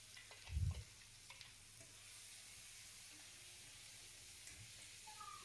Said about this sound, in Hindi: इसके बाद प्याज वाला डाल देंगे, प्याज मिर्ची का। इसको डाल के थोड़ा सा भून लेंगे अच्छे से।